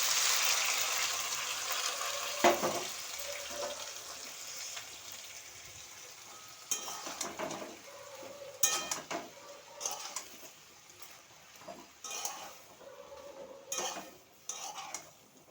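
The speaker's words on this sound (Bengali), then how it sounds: "এবার আমি মোচার কলাগুলো দিয়ে দেব।" Chopped banana flower goes into a cooking pan and gets stirred, giving quiet scraping and clinking with a soft sizzle underneath, close and fairly faint, with irregular spoon taps.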